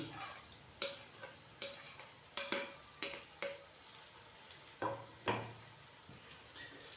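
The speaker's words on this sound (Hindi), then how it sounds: "तो अभी हम इसके अंदर भिंडी डालेंगे।" Okra pieces tipped into a pan of frying chicken and spices, heard as a run of sharp clattering knocks and scrapes at an irregular pace over a faint, low sizzle, with no talking.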